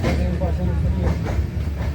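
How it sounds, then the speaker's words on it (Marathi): A local train rumbles past outside a train window with rhythmic clickety-clack rail noise, loud and continuous, with voices talking over it. "बाहेर लोकल जाते"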